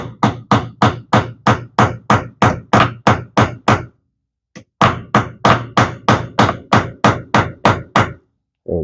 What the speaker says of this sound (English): Take the brass part of the hammer.